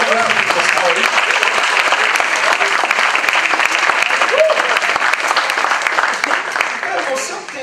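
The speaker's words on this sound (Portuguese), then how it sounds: "Pode dar uma salva de palmas ao Senhor." Church congregation applauding at a worship service, loud dense clapping filling the space steadily throughout, with some voices mixed in and a slight fade near the end.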